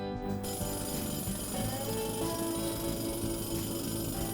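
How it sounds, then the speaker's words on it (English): A drill breaks rock in the video game Sandustry. It makes a continuous grinding drone with a steady tonal hum running through it, even in level from start to finish with no pauses. "And we can use the drill for this as well."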